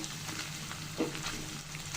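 Raw ginger and cumin paste fries in a pan for egg korma, a soft, continuous low sizzle with light stirring scrapes, faint and close, with no speech.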